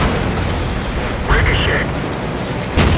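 An M5 Stuart light tank in a video game takes a shell ricochet: a sharp metallic crack and ringing ping midway, with boomy impacts and battle noise around it, loud and close.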